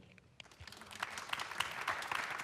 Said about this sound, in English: So I couldn't tell if you were applauding for Alexa's age or hers.